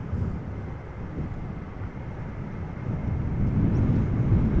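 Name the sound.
Delta Airlines Airbus A330-300 departing Amsterdam Schiphol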